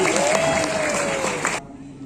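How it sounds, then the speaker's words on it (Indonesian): An audience at a teacher certification ceremony in a Bandung hotel claps for a speaker, dense clapping under a voice that cuts off abruptly near the end. "Tepuk tangan lagi sekali untuk Bapak Budi"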